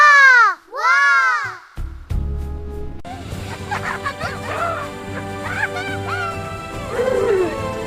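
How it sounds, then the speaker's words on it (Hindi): A child cries in a cartoon jungle, heard as a series of wailing sobs under background music after a couple of honking animal calls and a crash at the start. "कोई बच्चा रो रहा है।"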